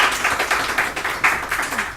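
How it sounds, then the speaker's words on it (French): Audience clapping at a French panel talk on digital entrepreneurship, a moderate, fairly close patter of hands with a slightly pulsing rhythm over two seconds. "On peut applaudir."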